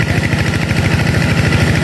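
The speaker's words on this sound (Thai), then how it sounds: "ตอนนี้กำลังเร่งเครื่องขึ้น" An engine running hard and loud with a steady, fast low throb and even pulsing, close by and alone with no voices over it.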